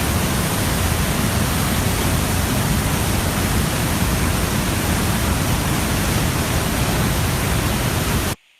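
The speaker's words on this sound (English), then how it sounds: "This is just one of the 10 different waterfalls that we visit at Trummelbach." The Trummelbach Falls, one of ten glacier-fed waterfalls inside a Swiss mountain, roar as a dense, unbroken wall of rushing water. Loud and steady, it cuts off abruptly at the end.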